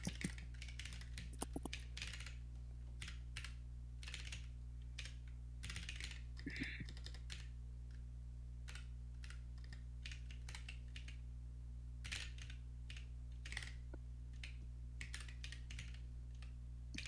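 Steady typing on a computer keyboard, quick irregular key clicks in clusters across the whole stretch over a constant low electrical hum, close and fairly quiet with no talking.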